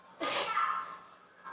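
A single loud sneeze bursts out close by during a dance workout session, followed by a fading breathy tail and faint background sound.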